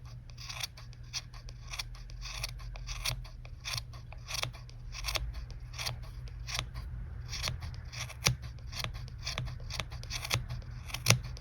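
Scissors snip again and again at a yarn pompom of dyed wool, a close, crisp series of quick cuts in an uneven rhythm over a faint low hum.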